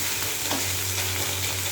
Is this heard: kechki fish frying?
yes